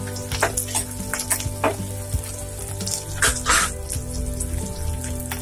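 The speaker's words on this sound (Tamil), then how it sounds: "வெங்காயம் பூண்டு எல்லாம் நல்லா வதங்கட்டும்." Onion and garlic sauté in a pan as the base for a paara fish curry, with a steady close sizzle, scattered crackles and a few stirring scrapes throughout and no talk.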